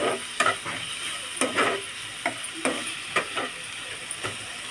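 Spice tempering for upma sizzles and crackles in hot oil, with steady frying hiss broken by repeated sharp pops and stirring scrapes at close range, no voices.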